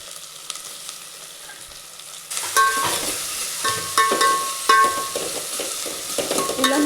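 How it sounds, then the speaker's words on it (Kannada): Onion and tomato frying in a pan for sambar, with a quiet start and then loud sizzling and scraping stirring from about two seconds on, metallic clinks of the spoon against the pan mixed in. "ಈಗ ಈರುಳ್ಳಿ ಸ್ವಲ್ಪ ಫ್ರೈ ಆಗಿದೆ. ಅದ್ರ ಜೊತೆಗೆ ಈಗ ಟೊಮೊಟೊ ಹಾಕೋತಾ ಇದ್ದೀನಿ."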